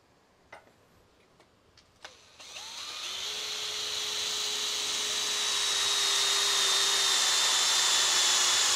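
A Dongcheng power drill fitted with a sharp 10 mm bit bores into a metal plate, starting after a few light taps and rising into a loud, sustained high whine with a steady pitched tone underneath.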